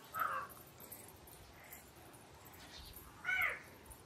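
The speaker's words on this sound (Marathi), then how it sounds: "कावळा कसं गागतोय" A crow caws twice outdoors near a farm field, two short harsh calls about three seconds apart, moderately close over faint background hiss.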